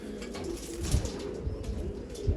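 Soft, low coos from a Punnu wali breed pigeon repeat against a steady background hum, fairly faint and unhurried.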